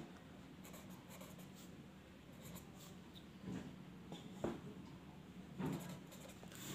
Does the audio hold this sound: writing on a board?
yes